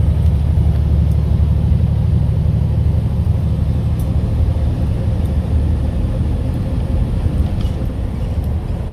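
A big truck cruises along a highway between Alabama and Georgia, its steady loud engine rumble and road noise filling the cab continuously with no talk.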